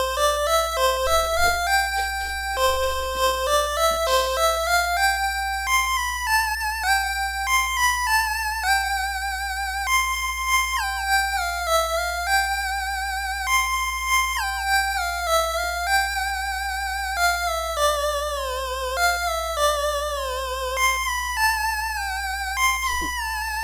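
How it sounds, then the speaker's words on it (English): Chiptune arrangement of the hymn All Creatures of Our God and King on the Sega Master System sound chip, a square-wave melody with one channel delaying the notes as an echo, playing steadily throughout with no talk. "where I do kind of this Game Boy echoey sound on Sega Master System"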